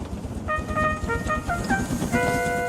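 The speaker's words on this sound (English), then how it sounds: "Then he heard a whistle." A train whistle sounds in several short toots, then one longer blast, over a low rumbling engine.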